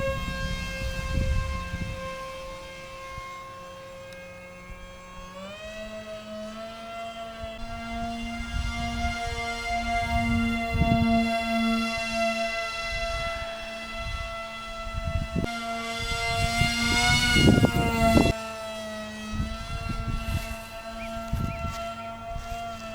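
The electric motor of a giant RC paper airplane at half throttle gives a steady, near, tonal whine that holds its pitch for long stretches, steps up in pitch once, and wavers slightly in flight.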